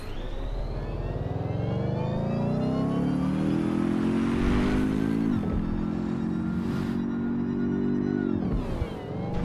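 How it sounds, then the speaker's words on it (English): A car engine in the Watch Dogs: Legion video game hums as the vehicle drives, a smooth whirring tone that rises steadily, dips briefly and climbs again, loud and continuous with no talking. "God, I wish future cars could sound this quiet."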